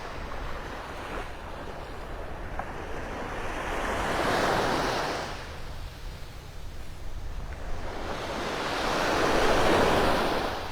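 Small ocean waves wash onto Vanderbilt Beach in North Naples, Florida, on a morning walk, with two slow swells of surf rising and falling over steady wind noise.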